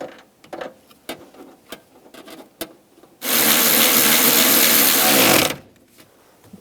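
A power tool whirs loudly and continuously for about two seconds, tightening the nuts on a rear shock absorber of a 2004-2009 Toyota Prius. Scattered clicks and handling knocks come before it.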